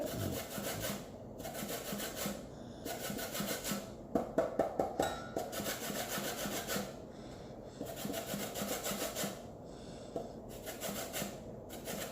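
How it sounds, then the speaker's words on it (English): Lemon skin rubbed against a metal grater over a bowl with egg for a Jamaican Easter bun: a steady run of close, continuous rasping strokes, a few sharper scrapes in the middle, no talking. "I'm just gonna grate some lemon skin in the egg."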